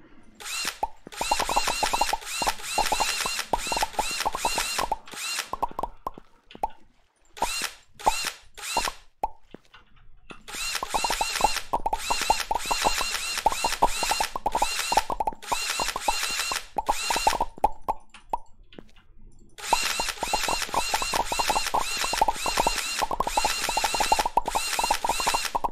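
Rapid rhythmic tunnel drilling in the Minetest block-building game, dense bursts of clicking, grinding mechanical ticks that stop and restart in long runs, no talk.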